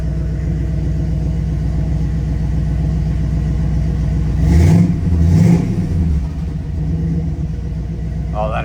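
A 1953 Chevrolet 3100 pickup idling loudly with a deep, rumbling exhaust, briefly revving up partway through before settling back to a steady throb.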